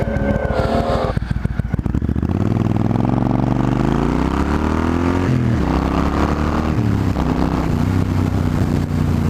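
A 2020 Rocket 3 R motorcycle engine under way while riding: a loud, continuous growl close by that climbs steadily in pitch as the throttle opens, then holds a strong, even drone.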